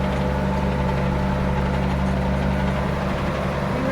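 Ford 9700 tractor, a two-wheel-drive model, with its diesel engine running steadily in a hilly field on a horse farm while spreading manure. A loud, continuous low rumble with a steady hum, no talk.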